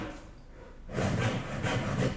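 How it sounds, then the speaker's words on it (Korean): A hand saw cuts wood for traditional Korean joinery, shaping a tenon, starting after a brief quiet moment with close, rhythmic rasping strokes. "바닥 부분의 장부를 가공하는 모습으로 톱질을 합니다."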